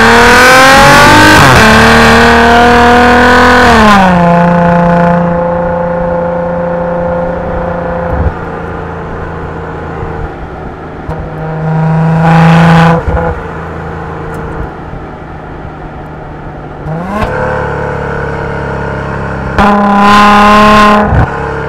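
A 2017 Maserati Ghibli S revs loudly and repeatedly, its engine and exhaust rising and falling in several strong surges with a steady idle hum between them, heard up close with no talking.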